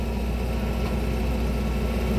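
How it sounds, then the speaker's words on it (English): A John Deere tractor running at about 1700 RPM pulls a TR3 drag up a hill on a gravel driveway, a steady low engine drone with no talking. "It's going to take just a little bit more power from the tractor to pull it up the hill."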